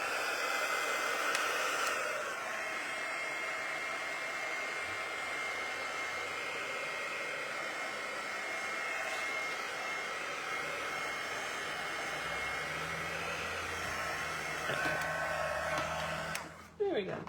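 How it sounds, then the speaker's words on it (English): A heat gun blowing hot air over wet background paper made with markers and vellum, a continuous loud whooshing roar held close for most of the time, shifting slightly as it moves and cutting off at the end. "I'm just gonna hit this with the heat gun a little bit"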